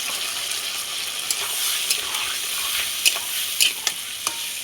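Ground paste of ginger, dried red chilli and cumin sizzling in hot oil with potatoes and onions, a steady broad frying hiss with occasional sharp spatter pops and faint stirring scrapes, close and continuous with no voices.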